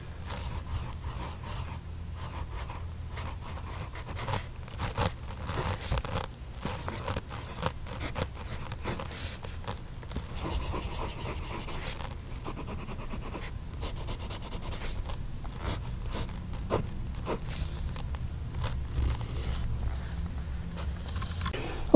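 Close, continuous scratching of a Fuliwen 815 fountain pen nib gliding over paper, with soft uneven strokes and brief pauses throughout, no voices.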